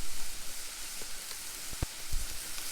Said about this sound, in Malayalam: അതിനുശേഷം വീണ്ടും ഇളക്കുക.